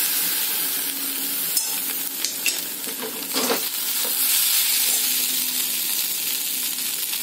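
Banana stem rice being stirred in a pan with fresh lime juice, a steady scraping stir over a soft background sizzle, with a few sharper clinks of the spoon against the pan midway; no voices.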